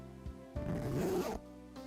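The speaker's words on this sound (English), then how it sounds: "then lowered the zipper on my full-body motorcycle suit" A visual novel sound effect of the zipper on a full-body motorcycle suit being lowered, one close, crisp rasping pull lasting under a second over a faint steady background.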